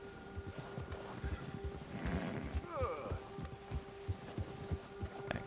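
A horse moves in the video game Red Dead Redemption II, its hooves thudding in an uneven clip-clop near at hand, with a brief snort and a low game hum beneath, and someone talking over it.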